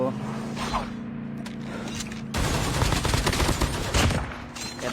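Gunfire in the video game Call of Duty Mobile, a steady hum at first and then a loud, continuous rattle of rapid automatic shots with brief peaks, close and dominant.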